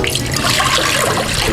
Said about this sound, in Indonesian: Kita siram dengan air dingin